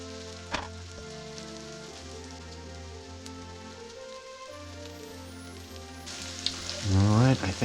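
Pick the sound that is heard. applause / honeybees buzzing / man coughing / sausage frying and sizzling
sausage frying and sizzling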